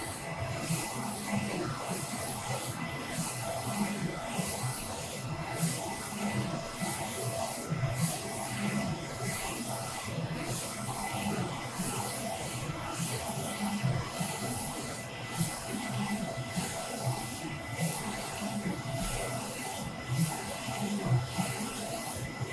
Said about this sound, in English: The Epson 3200 print with faster speed, really quick